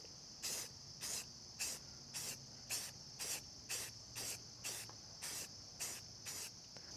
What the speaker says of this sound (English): It's just spray paint primer, which makes it really easy.